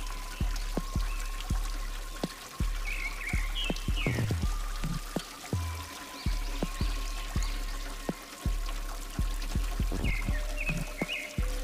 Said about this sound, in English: the sound of flowing water in the river